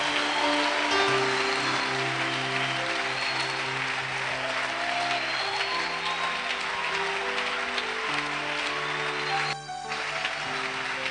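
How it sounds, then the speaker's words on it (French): A church congregation claps and cheers in sustained applause, a dense wash of clapping with sustained tonal voices and music woven through, dipping briefly near the end. "Est-ce qu'on peut fortement acclamer le Seigneur?"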